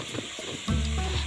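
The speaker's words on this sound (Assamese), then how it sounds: "এয়া চাওক, লাহে লাহে বিলাহীখিনি ফ্ৰাই হ'বলৈ ধৰিছে।" Tomatoes begin frying in a hot pan for a paneer dish, the sizzle cutting in abruptly partway through and then crackling loud and steady to the end, with no one talking.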